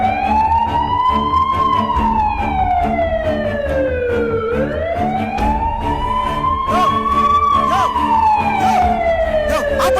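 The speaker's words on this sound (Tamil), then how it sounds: "ஏய் சைரன் ஆன் பண்றேன்." Emergency siren wailing loud and close in a Tamil film scene, a continuous rising and falling tone that sweeps up and down twice over a steady low rumble, with faint voices beneath.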